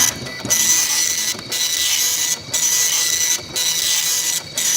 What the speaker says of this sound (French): Puis je vais l'imprimer aussi